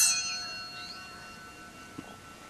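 A small bell rings once with a bright, sustained metallic tone that slowly fades out over a couple of seconds, close and clear, with a soft knock near the end.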